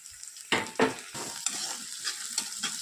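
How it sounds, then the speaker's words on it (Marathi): Onion, peas and tomato fry in a pan, with two sharp stirring scrapes at the start, then lighter, irregular scrapes over a steady sizzling hiss, close and with no talk. "आता याला चांगलं आपण फ्राय करून घेऊया"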